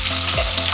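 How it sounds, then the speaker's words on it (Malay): Onions fry in a pan with salt for a tomato-leaf and green-gram dal dish, a loud close sizzle with a brief scrape of stirring, alone. "Cook the onions down properly."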